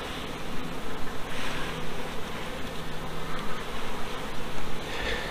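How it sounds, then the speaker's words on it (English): Honey bee workers buzz close around a queen while she is being marked, a steady, dense drone that carries on without a break under a hiss of rustling. "We got a couple of worker bees with her."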